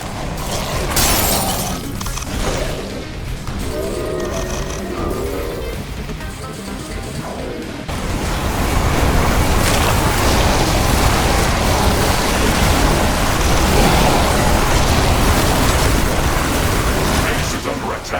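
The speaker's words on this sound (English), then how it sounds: "A building has been destroyed." Base building destroyed in The Riftbreaker, a loud crashing explosion with shattering debris, followed by a long sustained rumbling roar of collapse and battle noise that stays dense and loud to the end.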